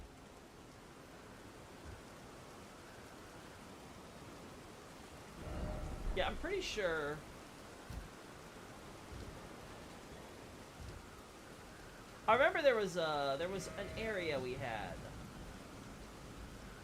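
Steady rain in a video game, an even hiss running throughout at moderate level while someone talks over it in two short stretches.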